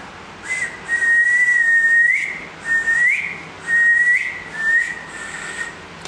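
A person tries to whistle in four or five wavering, breathy bursts, each about a second long, with uneven pitch and short pauses between them. The whistling is close and fairly loud.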